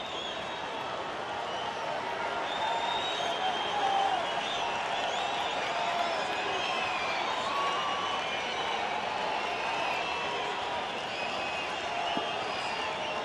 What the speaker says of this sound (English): Crowd getting involved.